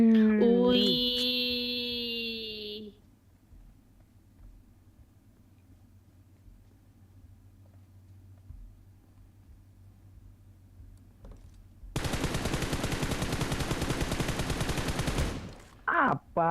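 Loud, dense automatic gunfire in the mobile battle royale PUBG Mobile erupts in a sustained burst after a quiet stretch, followed by a short final volley; an in-game tone sounds at the start.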